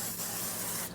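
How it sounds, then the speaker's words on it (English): A single short hiss of olive oil spray misting into a 13 by 9 baking pan, close and steady for about a second before cutting off. "So we're going to give it a light spray."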